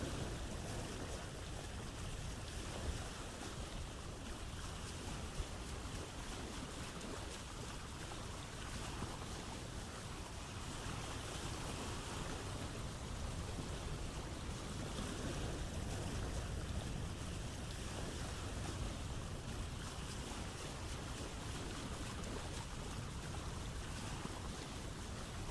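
A boat sails over open-sea waves in the Vintage Story survival game, with a steady wash of water and wind rushing constantly and evenly, fairly quiet, with no voices.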